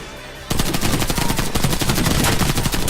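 Rapid automatic gunfire in a first-person shooter game erupts after a short quiet moment, a dense, loud, evenly spaced burst of shots continuing for over two seconds without talk.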